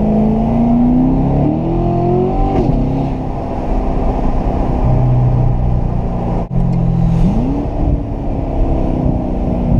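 A 2014 Chevrolet Corvette Stingray C7 engine drones loudly from inside the cabin, revving up in rising sweeps, briefly dropping and climbing again through gear changes, with a steady rumble underneath throughout.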